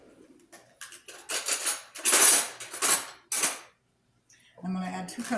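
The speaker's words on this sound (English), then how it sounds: "Now, let's get a spoon." A metal spoon scoops leftover rice from a container, producing a run of close clinks and scrapes. After a brief pause, a low steady hum follows, and no one speaks.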